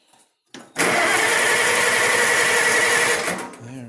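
A Cub tractor engine cranks with a brief stutter, then catches and runs loud and steady for a few seconds before easing off, close by and with no talk.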